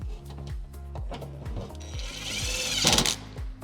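Power tool driving 8mm bolts on a 2025–2026 Ford Explorer lift gate, a rapid buzzing rattle in short repeated bursts, then a brief louder whirring surge near the end.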